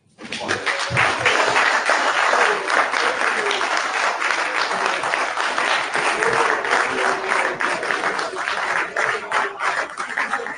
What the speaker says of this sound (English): Please give a round of applause for Honorable Yeke